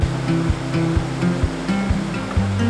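The lower falls of a waterfall on a park hike, a steady loud rushing roar of falling water filling the whole clip with no voices.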